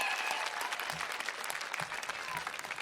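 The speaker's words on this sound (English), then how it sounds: "Can you all give them a round of applause for being here to support you all today?" A high school graduation audience applauds families and friends, a steady wash of many hands clapping at a moderate distance for about three seconds, with a few voices mixed in.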